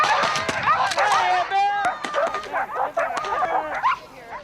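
Several Karelian bear dogs bark in rapid, overlapping yaps and yelps outdoors while chasing off a bear, loud and close, with a voice calling out over the barking.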